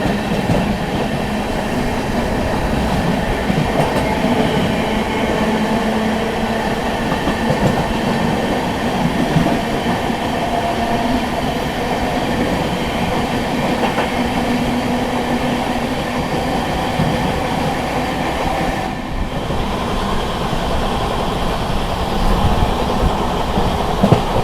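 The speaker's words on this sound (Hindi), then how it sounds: "Banaras New Delhi superfast express" The Banaras–New Delhi Superfast Express rolls past in fog, a loud continuous rumble of wheels and carriages sustained throughout with no talk.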